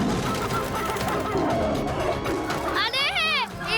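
Chickens cluck and squawk amid a busy, noisy scene with children's voices, and a rising, warbling call comes near the end.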